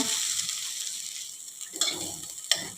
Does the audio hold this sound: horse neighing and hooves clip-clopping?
no